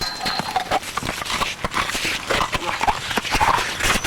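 A horse walks close by, its hooves clip-clopping in a steady, busy rhythm over a dense background of shuffling and movement.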